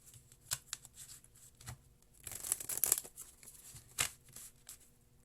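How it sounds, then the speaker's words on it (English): A deck of cards is shuffled for a reading, with a few soft isolated flicks and then a brief burst of riffling and crinkling, close and quiet with no voices. "Another shuffle, they request."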